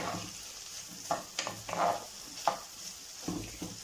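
Chopped tomato goes into a hot frying pan with sausage, giving a soft, steady sizzle broken by a few light scraping and stirring knocks; fairly quiet and close, with no talking.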